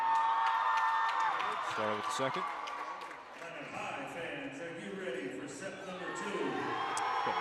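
A crowd cheers and shouts at a high school AA volleyball match between Minot North and Minot High, the noise staying steady and loud throughout while a commentator talks over it.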